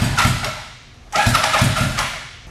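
A Kawasaki Ninja sport bike engine is cranked over and catches, sputtering briefly, dropping off, then firing again into a rough, loud idle close by with no talk.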